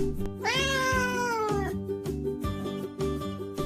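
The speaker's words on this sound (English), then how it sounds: "Look, the cat is running along the yard" A cat gives one long, drawn-out meow in a yard, loud and close over a steady rhythmic musical backing that continues throughout.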